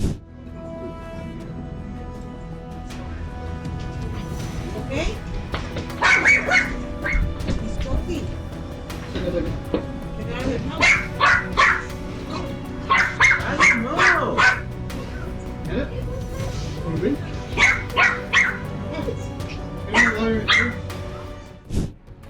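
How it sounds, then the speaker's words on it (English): Several dogs barking, snarling and yelping in a street fight, a small boy shielding his own dog from the attacking pack; sharp bursts of barks and whimpers recur in clusters over a steady background murmur, with voices audible in places. "To save his dog from being attacked by others, this little boy didn't hesitate to shield it and keep it safe."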